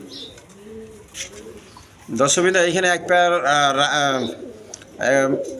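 Giribaz pigeons, a high-flying breed, coo in a bright, layered burst that swells after a quieter start, with someone talking over and between the calls.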